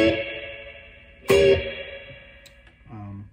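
Electric guitar with effects played in big, hard downstrokes with percussive slaps, ringing chords that decay between sharp attacks, plus a brief lower strum at the end, close and with no talking.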